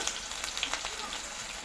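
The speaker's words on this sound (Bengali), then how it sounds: "এখন আমি ভেজে নেব" Chopped onions with cumin, cardamom, cinnamon and bay leaf fry in a pan, a steady close sizzle with light crackles.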